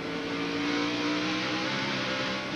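Race cars at the 1997 Goody's Headache Powder 500 roar in a steady, dense engine drone at a loud level, a sustained tone with slight pitch drift and no break.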